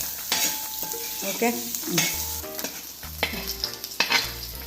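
Onions sizzle and fry in a pan while being stirred with repeated scraping strokes, close and fairly loud, amid clattering of the utensil as a mutton curry is prepared.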